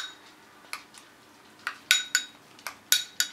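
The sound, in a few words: stirring ground flaxseed into applesauce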